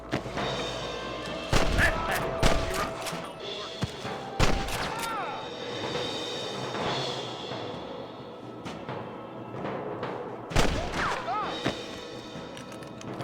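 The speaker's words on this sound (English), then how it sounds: "Good shooting, Marston" Gunfire from the Red Dead video game: a string of sharp, loud shots scattered irregularly over several seconds, some in quick clusters, with game voices and background sound between them.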